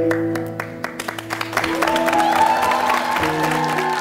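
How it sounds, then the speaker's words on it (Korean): A television variety show studio audience claps in welcome amid stage music, the applause building from scattered claps into a fuller, sustained wave over musical tones, moderately loud. "여러분 따뜻하고 큰 박수로 환영의 박수를 부탁드리겠습니다."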